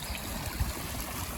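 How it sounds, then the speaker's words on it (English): Fast runoff water from farm fields rushes under a bridge, a steady full broadband roar of flowing water with low gurgling, heard close and alone. "they're obviously struggling to cope with the amount of runoff from the farm fields"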